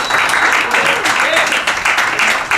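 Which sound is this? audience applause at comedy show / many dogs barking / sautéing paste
audience applause at comedy show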